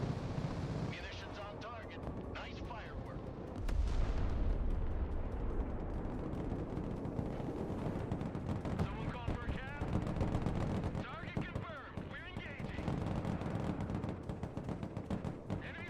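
Airstrike munitions detonating in the military video game Broken Arrow: a dense run of booming blasts and crackling gunfire-like bursts, loud and sustained, with radio chatter and voices talking over the barrage.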